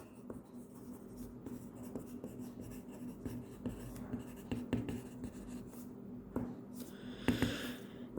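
A pen scratching across paper while a maths exam solution is written out: continuous close scratchy strokes with small taps, no talking.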